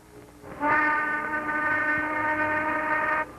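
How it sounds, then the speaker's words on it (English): A railroad shop's noon whistle blows once, a loud, steady, multi-toned blast lasting nearly three seconds before cutting off abruptly. "There goes the noon whistle."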